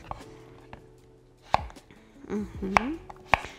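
Quick knife chops strike a cutting board in a kitchen, a few crisp close knocks spaced unevenly, with brief scraping and handling sounds in between.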